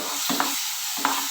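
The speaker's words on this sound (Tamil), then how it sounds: "கிண்டு விடுங்க." Mashed banana being stirred in a pan over a stove flame for a semolina sweet, two scraping strokes of a spoon against the pan over a soft sizzle, close and clear.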